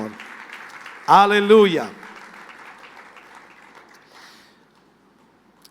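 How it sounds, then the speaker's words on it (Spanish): A church congregation breaks into a loud burst of praise applause lasting under a second, with a preacher speaking before and after it. "Fuerte ese aplauso de alabanza al Señor"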